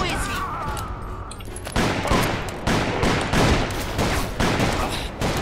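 Rapid gunfire in the Western shooter game Call of Juarez, a loud run of repeated shots in uneven bursts after a short lead-in, with a voice talking over part of it.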